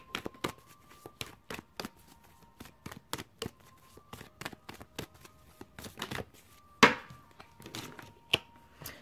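Tarot cards being shuffled and drawn nearby: a rapid series of soft, crisp card taps and flicks with brief pauses, ending in a sharper snap and a few light slaps, quiet and without talk.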